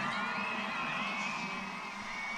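A crowd cheering and whooping at a show jumping event in the international ring at Spruce Meadows, a sustained outdoor roar that sits under an announcer's voice.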